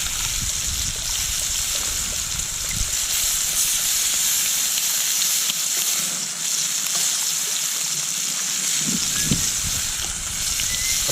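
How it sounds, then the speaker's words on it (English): Bacon fries in a pan at an outdoor camp cooking setup in heavy wind, a loud, steady close sizzle and hiss that continues throughout with small crackles, with no talking. "I burnt the bacon."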